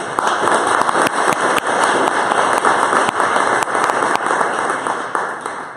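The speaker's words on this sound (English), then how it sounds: "Let's give everybody a round of applause." An audience at an evening lightning-talks event bursts into sustained, loud applause for the speakers, a dense wash of clapping with sharp individual claps cutting through throughout.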